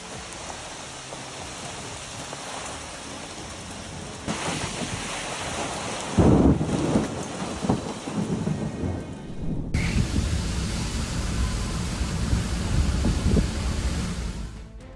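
A powerful thunderstorm pours steady rain while loud thunder cracks and rolls nearby, with a sharp close strike midway followed by heavier downpour.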